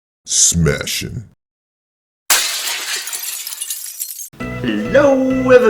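Object smashed violently: a sharp crash of shattering glass with pieces scattering and tinkling, preceded by brief vocal sounds and followed by a voice speaking.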